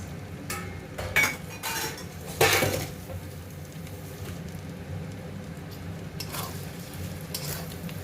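Green chilli, ginger and garlic paste with cashews and raisins stirred in a frying pan, a spoon scraping and clinking against metal over a soft continuous sizzle, close, with a few louder scrapes.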